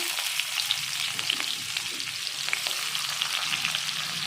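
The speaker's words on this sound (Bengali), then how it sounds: "পেঁয়াজটাকে আমি একটু ভেজে নেব" Chopped onion sizzles steadily in hot oil in a pan, a dense continuous crackle with small pops scattered throughout, close and fairly quiet, with no voices.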